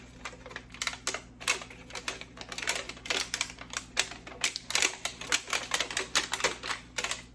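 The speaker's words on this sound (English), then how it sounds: "I'm just ripping open my tray here" A plastic plant tray for growing salad greens is torn open by hand, a rapid series of close, crisp crackling and tearing bursts with no talking.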